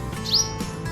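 A sparrow chirps in the morning, giving one clear, bright, rising chirp at close range, followed by a softer faint call against a quiet background.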